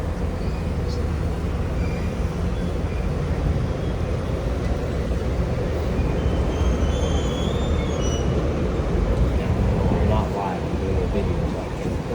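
Steady low rumble of a tour tram in motion at Space Center Houston, with faint wheel squeal and rattling; muffled voices talk throughout.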